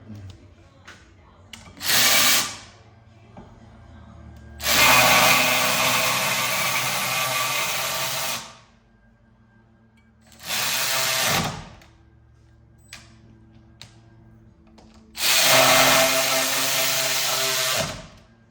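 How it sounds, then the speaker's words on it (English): Milwaukee pass-through power ratchet driving two 14mm caliper bracket bolts on a Hyundai Elantra: four loud whirring bursts of a few seconds each, separated by quiet pauses, heard up close. "Put your two 14 millimeters back in here. The old Milwaukee pass-through."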